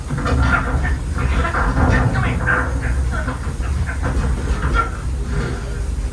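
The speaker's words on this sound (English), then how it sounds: "It's a train." The Walt Disney World Railroad train at Magic Kingdom rumbles along steadily with hissing and rhythmic clatter, loud and continuous throughout.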